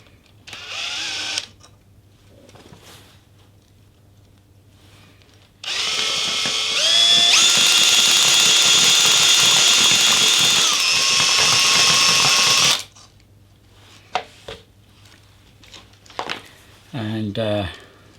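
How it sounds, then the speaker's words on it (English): A cordless battery drill spins to wind wire around a nail, a steady loud whir lasting about seven seconds with a slight pitch drop partway, bracketed by quieter handling clicks and a short burst at the end. "if I wrap a bit of wire around this nail, and to speed things up, I think I might add my battery drill to the thing"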